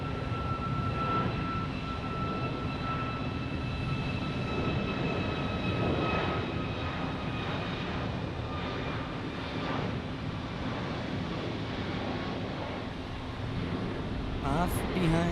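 Alaska Airlines Boeing 737 Max jet departing toward San Diego, a steady loud engine roar with a continuous whine holding throughout, and a voice speaking over it.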